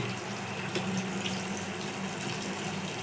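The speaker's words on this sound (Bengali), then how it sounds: "একটু জল দিয়ে দেবো আস্তে আস্তে হবে জল দিয়ে দিয়েছি" Water is poured slowly into a pan of steamed hilsa fish, a soft continuous splashing trickle heard close and alone for about three seconds.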